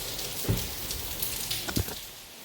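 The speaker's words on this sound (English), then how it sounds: "Rarely rains in LA, I'll tell you that much." Rain falls outside during a bathroom renovation in Los Angeles, a steady soft hiss broken by a couple of dull knocks nearby.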